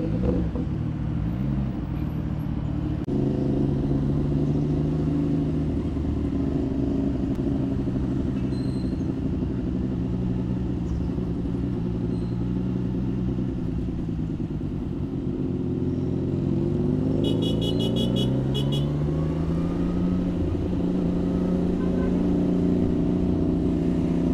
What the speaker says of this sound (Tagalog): iba pa rin talaga ang tunog ng 3-cylinder sa 2-cylinder